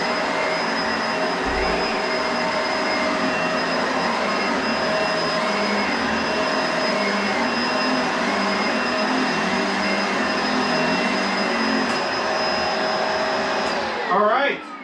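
A Bissell SurfaceSense upright vacuum cleaner runs continuously with a loud, steady motor whine and airflow roar that cuts off abruptly at the end.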